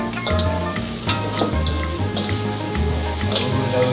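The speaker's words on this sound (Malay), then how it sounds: "Masukkan dengan tempe dengan kari tahu." Fried tempe coated in flour dropped into a tofu curry, giving a loud, steady sizzle and bubbling hiss with some stirring and clattering, close up and without talk.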